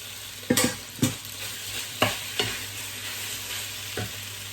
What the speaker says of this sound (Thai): นี่จะผัดหมูต่อเลย